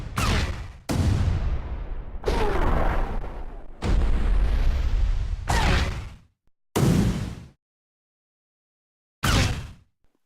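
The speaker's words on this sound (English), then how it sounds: "As you can hear, it is affecting the pitch of this Explode mini container." A series of loud explosion sound effects with pitch modulated in Wwise, each heavy boom bursting out and decaying, some long and rumbling, others short, separated by brief silences.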